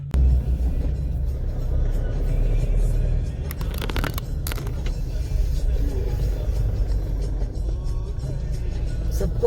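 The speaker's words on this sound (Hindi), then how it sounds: "गाड़ी स्टार्ट करो, चल पड़ा" A car's engine runs with a steady low rumble on a road trip from Jammu to Srinagar, a brief clattering burst midway, the idle continuing close and loud throughout.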